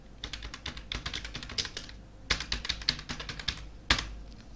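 Quick, uneven keystrokes tap across a computer keyboard as a name is typed into a Word document, in two short runs with a brief pause between, close and clear with no voices.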